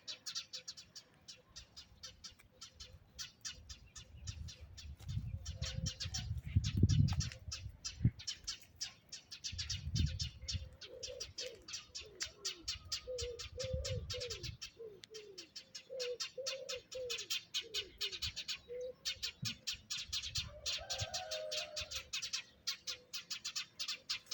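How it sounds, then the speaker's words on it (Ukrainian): Many birds chirp and sing outdoors in spring among budding cherry trees, a busy, continuous chorus of bright tweets and calls at moderate distance, with some low rustling and handling noise underneath and no talking. "Чуєте, який спів пташок?"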